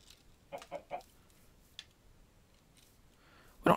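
Chickens clucking in a Minecraft-style survival game: a few short, soft clucks near the start, a brief chirp, then one louder squawk at the end, all over a quiet background.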